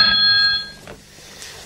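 An old-style office telephone rings with a bright, sustained electronic trill, loud and close, that cuts off after about half a second and leaves quiet room tone with no speech.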